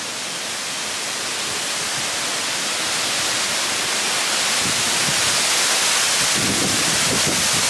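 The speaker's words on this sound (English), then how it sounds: "enjoy the waterfall" A waterfall at Dogwood Canyon near Branson, Missouri, roars as a steady, dense wash of rushing water that holds even and close throughout, with no voices over it.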